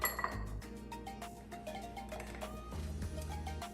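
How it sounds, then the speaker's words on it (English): Lime wedges dropped into a glass packed with ice while mixing a Moscow Mule, giving a few close, light clinks and glassy taps over a steady low background hum. "Then I'm gonna take lime wedges and place in here."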